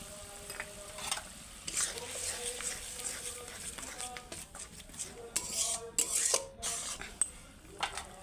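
Egg masala curry spices frying and stirred in a pan, with soft sizzling and intermittent scraping and clinks of a utensil against metal, close up and moderately quiet throughout.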